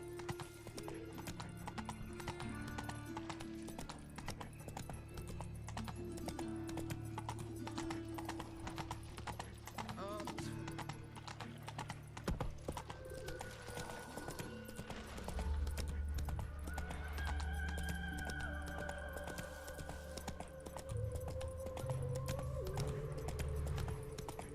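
Roach the horse gallops in The Witcher 3 with steady, rhythmic clip-clop hoofbeats throughout, joined by an occasional whinny, all set over a continuous game music bed.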